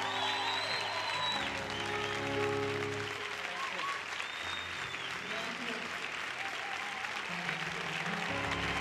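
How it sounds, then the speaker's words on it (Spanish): An audience at a Puerto Rican prayer service applauds the governor, sustained loud clapping from a large crowd that carries on steadily throughout, with voices over it. "Que el aplauso sea para el señor."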